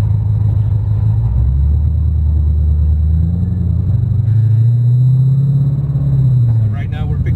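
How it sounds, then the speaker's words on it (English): A loud, deep engine rumble from a supercharged 800 hp Ford Mustang GT with a six-speed Shelby GT500 gearbox, a steady low drone that rises and swells in pitch midway, then eases off near the end. "Wow, this car is really loud. I love the way the supercharger sounds."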